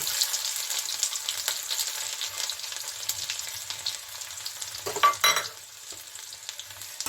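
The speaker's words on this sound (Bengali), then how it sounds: "এটা অল্প আমি একটু ভেজে নিচ্ছি, হালকা ভাজবো" Cumin seeds and chopped garlic fry in hot oil, a steady close broadband sizzle with scattered crackles and a brief louder spatter burst near the end, no voices.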